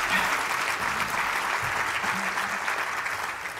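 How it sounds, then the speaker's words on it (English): A conference audience applauding for the J Street leader, a dense, steady wash of clapping from many hands that carries on loudly throughout. "Give Jeremy a round of applause."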